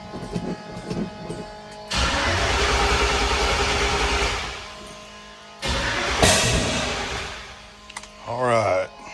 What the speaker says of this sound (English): Now we can try to crank it.